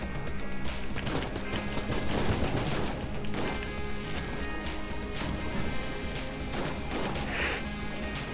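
Poison barrel smashing in the game Enter the Gungeon, a crash buried in dense, continuous game noise with gunfire, mechanical clatter and impacts throughout.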